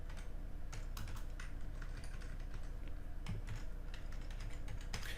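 Typing code on a computer keyboard: quiet, irregular bursts of key clicks close by, with brief pauses between runs of keystrokes and no talking.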